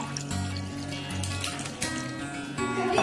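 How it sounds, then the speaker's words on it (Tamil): Water poured from a small vessel into freshly made orange juice, a steady liquid splashing and trickling that holds fairly even for a few seconds. "இப்போ ஒரு வட்டா தண்ணி ஊற்றிக்கலாம்."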